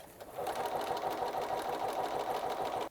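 A sewing machine runs at a steady, rapid rhythm while stitching a buttonhole, with a close mechanical whir and clatter that starts after a short lead-in and continues to the end.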